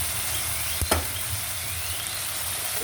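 Chili and garlic sizzle in a pan, a steady, moderately loud frying hiss with one brief sharp clatter near the start of the second.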